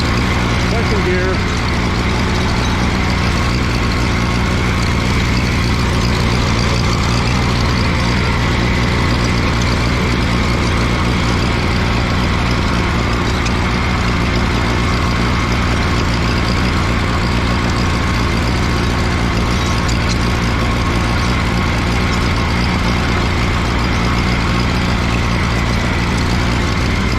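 An Allis Chalmers G tractor runs in second gear while pulling a cultivator, its small engine giving a steady, loud, close drone that holds unbroken throughout with no talk over it.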